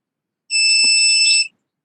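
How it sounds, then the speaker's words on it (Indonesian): A buzzer on an Internet of Things device used for humidity notifications gives one loud, shrill electronic beep lasting about a second. It is set against silence and no one speaks. "itu bisa menggunakan notifikasi berupa buzzer atau suara."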